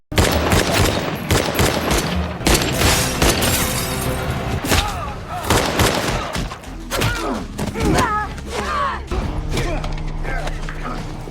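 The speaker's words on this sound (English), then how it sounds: "Nero then shoots him dead, sparking off a fight between Zamo and the other agents" Gunfire erupts during a fight between a cartel leader's men and agents in a movie, with dense, rapid bursts of shots and heavy thuds, loud and continuous throughout, under a busy soundtrack.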